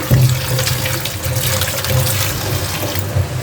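Running tap water splashes steadily over vegetables being rinsed in a kitchen sink, a continuous close wash with no talking.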